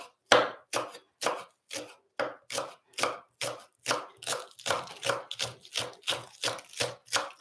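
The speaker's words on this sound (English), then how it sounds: "And I'm going to cut the spring onions. Nice and finely chop." A knife finely chopping spring onions on a board: about eighteen crisp, close strikes in a steady, even rhythm, with no other sound between them.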